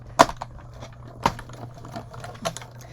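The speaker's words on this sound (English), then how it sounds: "while I merrily die cut this little piece to death" A die cutting machine working through a small piece, giving a few sharp clacks spaced about a second apart over a low steady hum.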